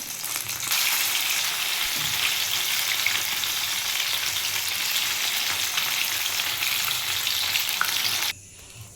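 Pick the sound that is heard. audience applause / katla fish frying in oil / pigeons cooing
katla fish frying in oil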